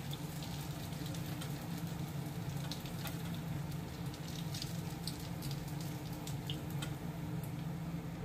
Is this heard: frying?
yes